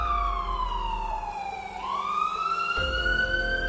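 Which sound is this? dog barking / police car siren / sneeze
police car siren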